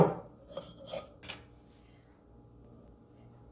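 Thai papaya salad ingredients being mashed in a krok mortar: a few close, rasping pounding and scraping strokes early on, then quieter rubbing under faint background sound.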